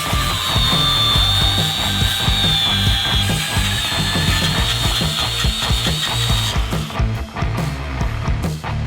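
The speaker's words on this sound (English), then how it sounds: "We're gonna put the flap disc on to clean everything up." An angle grinder fitted with a flap disc cleans up freshly cut metal on a Toyota Tacoma frame while bump stops are being installed, giving a loud, steady abrasive whine with rough grinding texture that shifts pitch partway through, close by and continuous.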